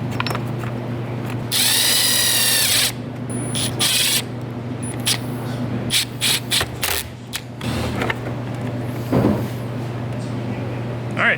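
A power drill bores holes during a mod on an LS-swapped Miata, whirring in a long loud burst, then short on-off spurts with ratcheting clicks, against a steady background hum in a garage.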